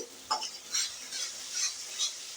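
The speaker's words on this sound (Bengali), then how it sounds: "মশলাটাকে ভালো করে কিন্তু কষাতে হবে" Masala spice paste stir-fried in a pan for a dried lotte fish and eggplant curry, with a steady sizzle broken by about five rhythmic scraping strokes of the spoon, close and clear with no talking.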